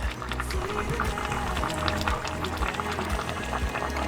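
Stew with peppers and onions bubbling in a Dutch oven pot at an RV campsite, a continuous close simmering and bubbling rush with faint background voices.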